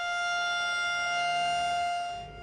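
A civil defense air raid siren in Tel Aviv holds a steady, loud wailing note and then fades away at the end.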